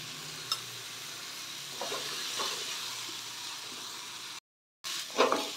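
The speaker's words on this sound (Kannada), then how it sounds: "ಇದು ಕೂಡ 1 ನಿಮಿಷಗಳ ಕಾಲ ಫ್ರೈ ಆಗಲಿ." A spice mix with turmeric powder frying in a pan, a steady close sizzle with occasional scrapes of stirring, broken by a brief silent gap near the end before the sizzle resumes.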